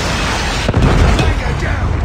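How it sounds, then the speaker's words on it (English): A Predator missile strike in Call of Duty Mobile, a loud, sustained explosive roar with rumbling booms under game voice callouts. "Predator missile inbound."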